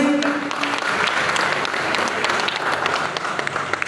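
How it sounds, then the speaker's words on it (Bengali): A crowd at a government employees' federation sub-divisional conference in Barrackpore claps loudly and steadily, with dense, continuous applause that fills the space throughout. "একটু জোরে হাততালি।"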